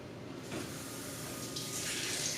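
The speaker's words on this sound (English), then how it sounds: "I'm just gonna add a little bit more water to this soap solution." Tap water runs steadily into a soap solution being mixed for cleaning sneakers, a continuous close splashing gush with no talking.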